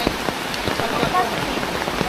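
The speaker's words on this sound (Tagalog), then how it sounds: "Sana hihinto yung ulan. Kaso palakas mo ng palakas." Heavy rain pours steadily onto a surface, a dense continuous hiss with scattered louder drop impacts throughout.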